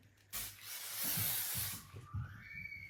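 A makeup setting spray gives one long, close hissing burst lasting about a second and a half, followed by a short second puff, in a quiet room.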